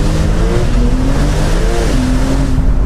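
A Brabus-tuned Porsche 911 Turbo S launches hard, its engine a loud, close, continuous roar with shifting tonal harmonics and no speech.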